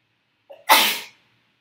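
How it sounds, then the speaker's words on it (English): A single sharp sneeze, with a short quick intake of breath just before it, close and clear against silence. "I'm going to sneeze."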